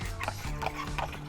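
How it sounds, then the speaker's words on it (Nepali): Hooves of a horse pulling a carriage clop quietly at an even pace along a car-free street, three soft beats over a low steady background hum. "यहाँनिर घोडा बगीहरू यसरी चौकेर चाहिँ मान्छेहरू यसको बगीमा चढेर हिँड्नुहुन्छ"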